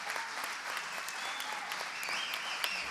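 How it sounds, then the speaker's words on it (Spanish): Sustained applause from an audience at an award ceremony honoring recipients of the Premio Nuevas Miradas 2017, steady dense clapping at close range with a light crowd murmur throughout. "Saludemos con un fuerte aplauso a los integrantes del ciclo Cronistas Barriales"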